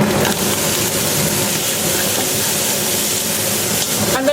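Onions sizzling in hot oil for a hearty beef and vegetable stew: a loud, dense, continuous hiss and crackle that holds steady throughout.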